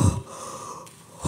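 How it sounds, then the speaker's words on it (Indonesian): A person draws one deep breath, an airy wheezing inhale that fades out, then starts again at the end, close and with no talk. "Gua ambil napas sebentar ya."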